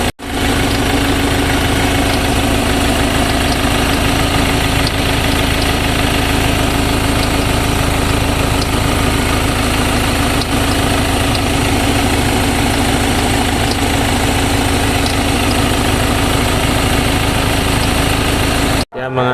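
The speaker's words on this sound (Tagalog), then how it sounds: "Papalitan natin ng belt kasi squeaking sound na." A Ford Everest engine idles steadily at close range with a drive belt that squeaks, giving a continuous loud hum and whine that runs unbroken for nearly twenty seconds.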